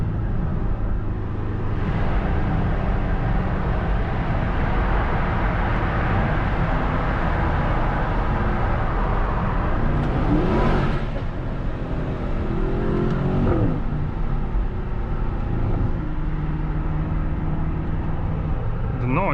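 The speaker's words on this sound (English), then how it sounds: "You can also try here downshift in the tunnel." A 2024 Mercedes-AMG S63 sedan with its V8 engine downshifts inside a tunnel, a loud continuous engine roar that echoes off the walls, with revs rising in bursts around the middle.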